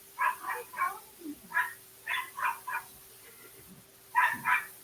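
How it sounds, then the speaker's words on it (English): Several dogs bark in short bursts of two or three yaps, moderately close indoors, with pauses between volleys and a final louder pair near the end. "sorry, I got dogs barking in the background."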